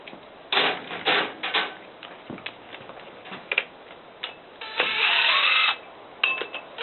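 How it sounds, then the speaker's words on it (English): Metallic clicks, knocks and a brief ringing scrape come from tools unbolting a brake rotor on a 1995 Honda, close and irregular, with a longer grinding stretch partway through and no talk. "So let's unbolt the brake rotor here."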